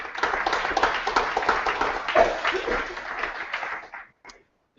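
Audience applause at an emoji presentation, steady clapping from many hands in a room for about four seconds before fading out abruptly.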